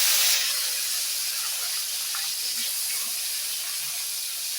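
Fish frying in oil sends up a steady, bright hissing sizzle, loudest at the start and then settling into an even spatter that runs throughout with no voices.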